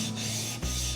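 A steel chisel rubbed back and forth on a Pride Abrasives sharpening stone, giving a steady, close abrasive rasp with one brief change in stroke midway, with no voices.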